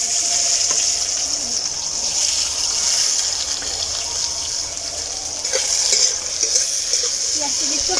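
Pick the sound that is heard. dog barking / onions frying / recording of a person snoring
onions frying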